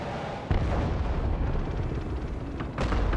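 Bombing explosions from the Broken Arrow real-time strategy game, a 5v5 match: a sharp blast onset followed by continuous dense, rumbling barrage of booms and artillery-like fire, loud and sustained throughout.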